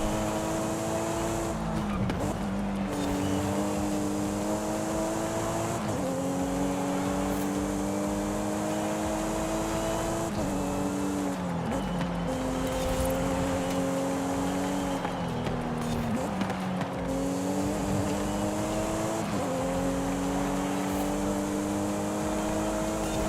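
A Toyota Supra's engine roars in Forza Horizon 5, holding a loud, steady note with rising and falling revs and brief dips at gear changes throughout the race.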